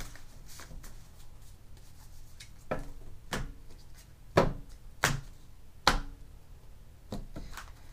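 Dark Mansion tarot cards being shuffled by hand, soft rubbing with a few sharper riffling snaps spaced unevenly, close and quiet with no talking.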